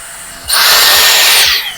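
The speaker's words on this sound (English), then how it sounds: "I would just clasp this and use it as a normal blow dryer" A Dyson Airstrait hair styler switches on and blows air in a loud, close, steady whoosh for about a second before it cuts back down.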